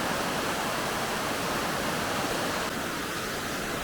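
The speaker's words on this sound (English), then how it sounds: "But just found this, another waterfall." A steady, dense roar of falling water from a waterfall in Iceland, continuous and fairly close, with no voices over it.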